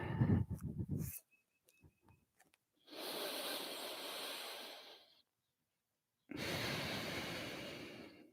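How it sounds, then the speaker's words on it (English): A yoga student breathing during a level 2 class: a short breath, then two long audible exhales of several seconds each, close and hissy, separated by quiet gaps. "Breathe. And exhale as we lower down."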